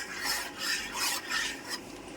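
Boiled milk for homemade yogurt is stirred round the pot in rhythmic scraping sweeps, about five close, even strokes with no talking.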